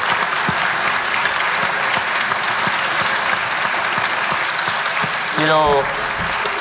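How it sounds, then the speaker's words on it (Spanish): Sustained applause from a live audience at a Buenos Aires-style tertulia gathering, steady and dense throughout, with a voice briefly speaking over it near the end. "un aplauso para ellos por haber estado aquí en esta tertulia"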